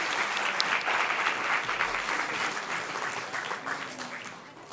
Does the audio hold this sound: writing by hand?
no